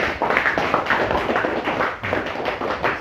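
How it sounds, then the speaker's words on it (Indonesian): A classroom of students claps together in sustained, dense applause, steady and fairly loud throughout with no break. "Sekali lagi tepuk tangan untuk kita semua."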